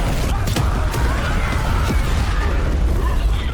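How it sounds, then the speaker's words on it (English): Gasoline barrels thrown from town walls detonate in a violent blast, heard as a loud, sustained roaring burst with crackling pops and sharp transients throughout, dense and close. "In the violent explosion,"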